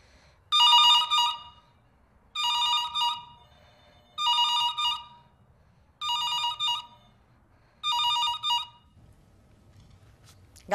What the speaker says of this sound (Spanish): ¿se puede saber dónde tienes el móvil? Que llevo un rato llamándote.